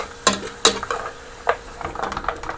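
Beef tossed into a hot pan of fried potatoes for a stir-fry, with sharp clinks of a utensil against the pan and scraping, stirring clatter at an uneven pace.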